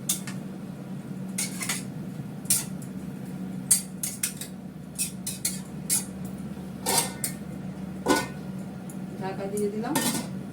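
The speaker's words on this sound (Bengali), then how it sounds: "ঢাকা দিয়ে দিলাম, এটা হতে থাক" A lid goes onto a cooking pot with metallic clinks and clatters, a scattering of separate knocks over a steady low background hum.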